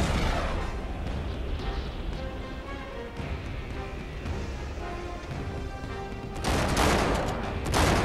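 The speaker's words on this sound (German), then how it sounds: "Granate!" A grenade blast in the video game Uncharted 3 erupts amid dense gunfire and rumbling battle noise, with a louder burst of explosion near the end.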